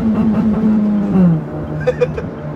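The 1.2-litre engine of a 2018 Honda Brio Satya manual hums steadily from inside the cabin on a test drive, its tone easing slightly downward, with a few brief clicks or beeps near the end.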